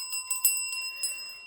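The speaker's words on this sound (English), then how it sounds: "we'll ring the bell on that." A small bell rings several times in quick succession, bright metallic strikes with shimmering overtones sustaining between hits, fairly close and clear with no voices over it.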